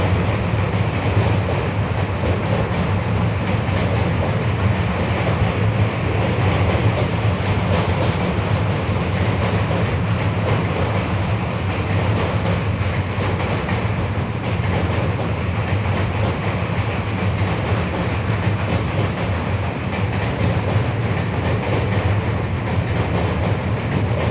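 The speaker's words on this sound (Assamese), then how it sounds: "ট্ৰেইন শেষ হ'ল, সঁচাকৈ খুব দীঘলীয়া ট্ৰেইন হয়।" A long train rumbles past continuously and loudly, with steady clattering of wheels on the rails throughout.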